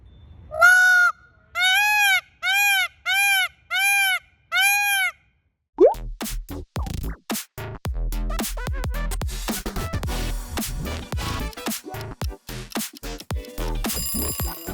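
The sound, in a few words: peacock call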